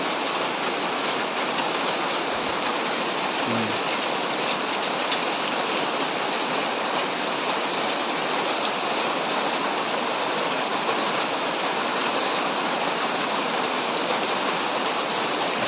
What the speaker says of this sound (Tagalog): lumakas na yung ulan